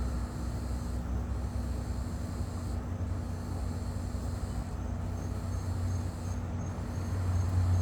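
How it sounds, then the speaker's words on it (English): Crickets chirp outdoors on an evening, a steady high trilling that pulses in regular bursts over a constant low hum. "I'm competing with the crickets now"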